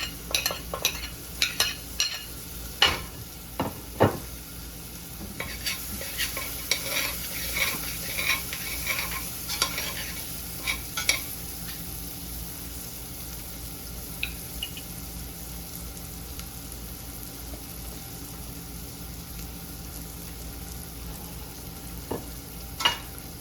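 Garlic and onion frying in a pan for a coconut cream chickpea curry, with steady soft sizzling and clustered scrapes of stirring in the first half, settling into a quieter continuous fry.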